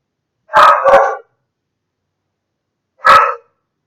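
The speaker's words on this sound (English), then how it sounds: "my dog keeps barking" A pet dog barks loudly and close by indoors: a quick pair of barks, a pause of about two seconds, then one more bark, with no talking in between.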